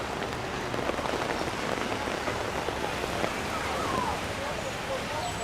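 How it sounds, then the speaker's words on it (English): Heavy rain falls steadily on a New York City street on the Upper West Side, a dense, close hiss of drops spattering on surfaces, with a faint voice under it. "Very, very wet rain today."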